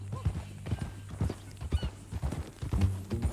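A horse in Red Dead Redemption 2 walks with close, uneven clip-clopping hoofbeats, joined by a brief whinny and low voices in the background.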